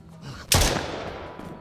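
A single sharp gunshot in the video game Mist Survival cracks out after a half-second of near quiet, followed by a short decaying echo.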